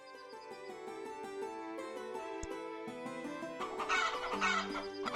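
Roosters in the Hearthlands farming game cluck and crow over a steady layer of game music, with a brighter, louder burst of crowing toward the end.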